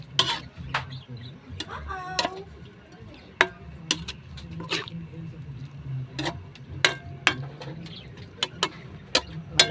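A utensil stirring sautéed chayote with a little carrot, oyster sauce and broth in a pan, giving scattered clinks and scrapes against metal at an irregular pace, fairly close but soft, with faint background noise.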